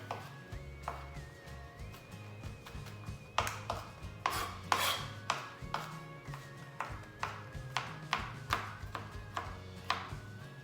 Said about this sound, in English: you're also going to need 3 garlic toes. You can chop them up.